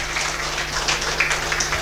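Audience applause at a talk on laughter, a dense steady wash of many hands clapping, fairly loud and continuous with no voices over it.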